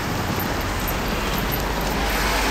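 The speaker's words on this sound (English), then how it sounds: "Hey, it's raining." Outdoor rain falls in a continuous, broad hiss, moderately loud and steady, with no voices or other distinct sounds over it.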